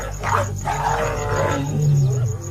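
A lion roars at night on the African savanna, a deep, sustained rumbling call that fills the whole stretch at close range, with no voices.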